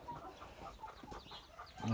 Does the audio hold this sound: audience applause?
no